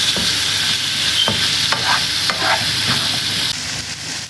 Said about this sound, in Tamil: போட்டு எல்லாமே ஒரு நல்ல மிக்ஸ் பண்ணுங்க